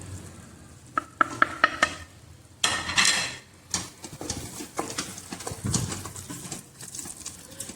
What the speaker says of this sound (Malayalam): ഇനി നമുക്കതിലേക്ക് ആ മസാല ചേർത്തി കൊടുക്കാം. എന്നിട്ട് നന്നായിട്ടൊന്ന് വഴറ്റിയെടുക്കാം.